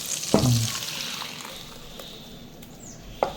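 Ground masala paste is poured into a hot pan and sizzles close up with a sharp initial hiss, then settles into steady frying crackle, with a faint clink near the end.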